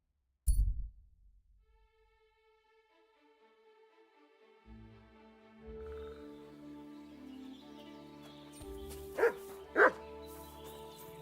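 A dog gives a couple of sharp, close barks, one loud yelp at the start and two quick barks near the end, separated by quiet stretches with faint background music tones.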